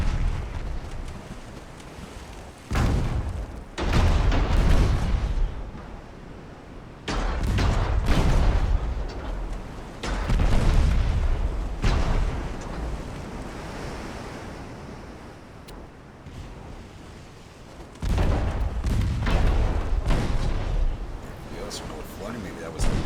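Naval gunfire in the warship game Ultimate Admiral: Dreadnoughts, set among 1890-era Italian dreadnoughts, comes as deep roaring booms and long rumbling blasts in repeated waves, with a speaking voice over them.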